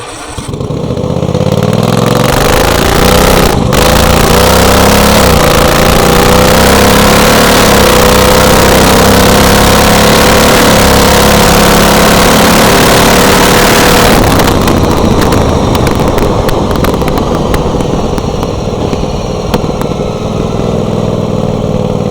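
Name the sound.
racing lawn mower's 23 horsepower engine running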